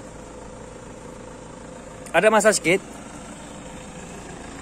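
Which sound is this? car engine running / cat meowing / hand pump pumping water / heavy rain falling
car engine running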